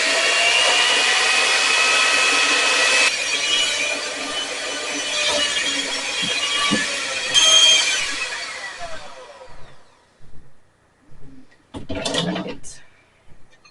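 An electric mixer whirs steadily through oatmeal chocolate chip cookie dough with flour, loud and close, then winds down into scraping and clattering handling noises.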